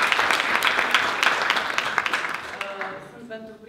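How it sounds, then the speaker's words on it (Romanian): An audience applauds steadily at a marketing event in a hotel, a dense wash of clapping that fades out near the end as a voice speaks over it in Romanian. "vă rog să întâmpinăm în aplauze pe Carmen Sterian"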